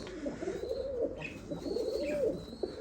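Pigeons coo in soft, repeated rounded phrases close by, a flock of about fifteen birds including young ones, with a few faint higher chirps and a steady background hum.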